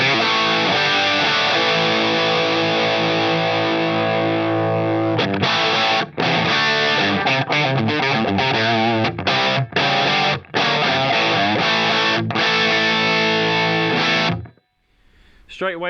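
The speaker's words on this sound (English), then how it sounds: "and I'm going to put in an overdrive pedal." Electric guitar through a Line 6 POD Go overdrive rings out in steady chords, then choppy strummed bursts with brief gaps, loud and close, ending abruptly in near silence.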